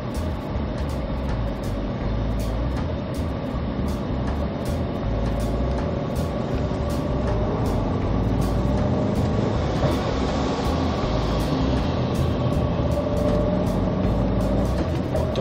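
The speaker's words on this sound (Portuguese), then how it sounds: "Mais caminhão de areia." Heavy engine rumble and road roar of a sand truck driving along a narrow highway, continuous and loud with steady low drone and rattling, no talking.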